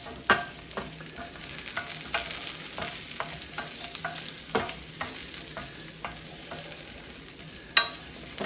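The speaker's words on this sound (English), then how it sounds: "Toss them around just a little bit more because I do want that garlic flavor mixed around with those carrots." Garlic and carrots sauté in a hot pan on turned-down heat, a steady close sizzle broken by irregular scrapes and knocks as the vegetables are tossed and stirred, with no voices.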